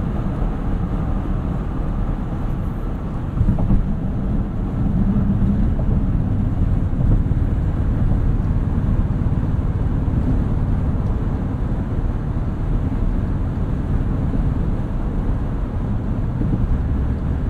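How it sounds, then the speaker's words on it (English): Steady broadband wind rush and road roar fill the cabin of a 2023 Toyota Sequoia Platinum 4WD driving at speed, with the noise coming from the front area and holding constant throughout. "A little bit of wind noise at speed from this front area,"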